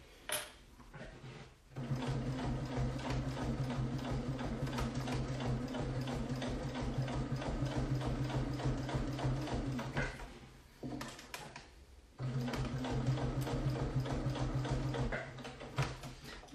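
Sewing machine running in long steady bursts while stitching leather derby slippers from a kit, with a brief pause near the start and another around ten seconds; close and moderately loud with a rapid mechanical rhythm.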